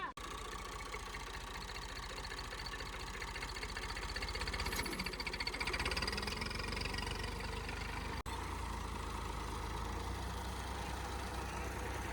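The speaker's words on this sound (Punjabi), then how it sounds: "ਹੁਣ ਟਰੈਕਟਰ ਪਾਵਾਂਗੇ ਤੇ ਇਹਨੂੰ ਸਟਾਰਟ ਕਰਦੇ" A tractor engine running steadily in a village farmyard at dusk, a close, low, continuous idling rumble that swells slightly midway and briefly cuts out before carrying on.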